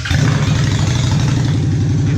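A Honda Shadow Phantom motorcycle with a custom exhaust idles steadily and loudly up close, its low, even throb running unbroken from start to finish.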